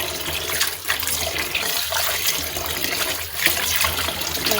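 Tap water splashes steadily into a sink while sandy fresh leafy greens are rinsed, a close, continuous gushing with small surges and no one speaking.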